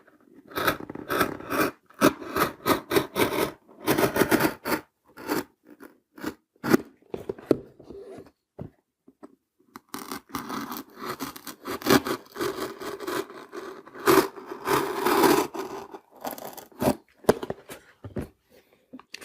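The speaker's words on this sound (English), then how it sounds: "remove the cardboard from the inside of this box marked in orange, and I've got my opening for the electronics" A cutting tool slices cardboard out of the inside of a box being made into a Raspberry Pi enclosure, giving close, irregular scraping and rasping strokes in bursts separated by short pauses.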